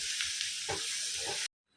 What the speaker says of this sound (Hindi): इस टाइम जीरा डाल दिया। अभी इसको अच्छे से फ्राई कर लेंगे।